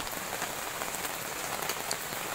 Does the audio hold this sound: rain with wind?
yes